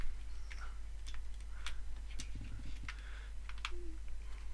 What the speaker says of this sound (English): You can hear them click as they go in.